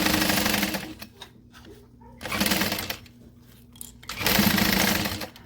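A home sewing machine runs in three bursts of steady, close motor whir and needle chatter while stitching a seam on a garment, with brief quiet pauses between runs.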